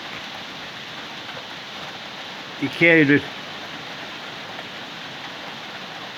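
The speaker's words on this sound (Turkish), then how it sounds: "yağmur şiddetini artırarak devam ediyor" Steady, dense hiss of heavy rain falling throughout in a village, with a brief burst of someone speaking near the middle.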